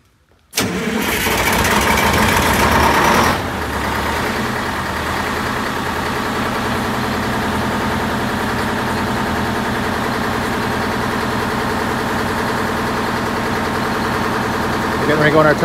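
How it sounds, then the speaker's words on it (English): An MCI bus engine cold-starts in the morning after a moment of silence: a loud cranking catch for about three seconds, then a steady, even idle that continues close by for the rest of the clip. "Cold start in the morning here."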